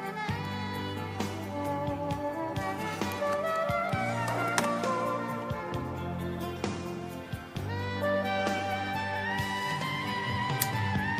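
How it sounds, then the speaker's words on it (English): Saxophone lines in a live 1990 rock performance, carried over a full band with drums and guitars, loud and continuous throughout. "Listen to that saxophone,"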